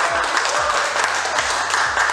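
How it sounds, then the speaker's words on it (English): A roomful of attendees at a book conference in San Francisco breaks into steady, dense applause, an even wash of many hands clapping together with a few soft low thumps underneath. "Can we give them a good round of applause?"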